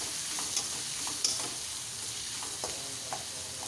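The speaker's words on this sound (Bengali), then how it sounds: "পেঁয়াজগুলো আমি ভালো করে ভেজে নেব" Sliced onions sizzle quietly in hot oil with a little salt, the frying hiss steady throughout while a spatula stirs with a few soft scraping knocks.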